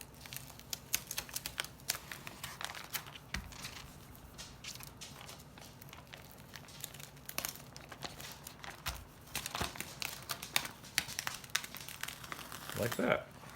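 Plastic sheet peeled off a painted surface, a close crinkling and crackling with sharp irregular snaps and rustles throughout, and a louder tearing burst near the end.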